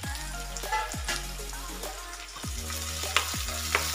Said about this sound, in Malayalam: സവാള, വെളുത്തുള്ളി, ഇഞ്ചി ഇതെല്ലാം ഇട്ട് കൊടുത്ത് നന്നായിട്ടൊന്ന് വഴറ്റിയെടുക്കട്ടെ